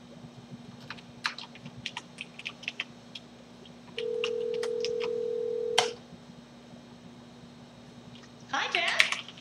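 Outgoing cellular phone call placed from an Apple Watch at the Steve Jobs Theater launch event, a steady ringback tone lasting about two seconds amid faint clicks and taps, with a brief burst of noise near the end.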